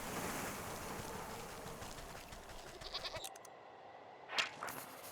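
Goats bleat in the video game Wytchwood, with short bleats rising over a washing, surf-like ambient background, followed by a sharper call near the end.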